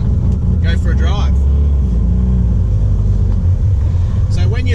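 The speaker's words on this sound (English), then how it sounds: "let's start the car up and go for a drive" Mazda RX8 with a 13B rotary engine idles and pulls away, a loud close rumble under a voice talking over it.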